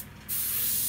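A pistol grip airbrush sprays paint, a brief hiss that starts abruptly after a moment of quiet and holds steady, close and clear.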